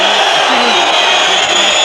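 A packed boxing arena crowd roars in a dense, unbroken wall of noise, part of it chanting a fighter's name and much of it booing, loud and sustained throughout.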